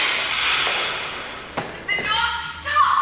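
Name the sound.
banging on a stuck door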